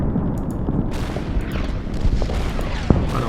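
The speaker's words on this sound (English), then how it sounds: "Artillery." Artillery shells land in a World War II strategy game set around Smolensk, a dense run of booming blasts and rumbling explosions with one sharper crack near the end, loud and continuous.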